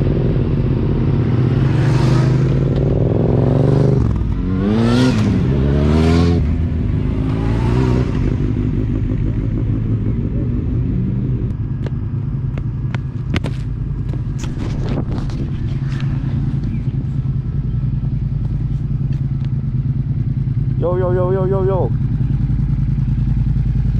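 A motorcycle with a budget-made exhaust ridden on the road toward a mechanic, its engine a steady loud drone under heavy wind buffeting, with a few brief clattering knocks.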